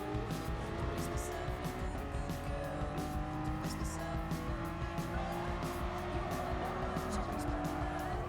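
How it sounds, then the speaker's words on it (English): Car drifting in the Gran Turismo Sport racing game, with a steady, loud engine roar and tire squeal running throughout, mixed with other game sounds. "we're drifting. Shouldn't be drifting."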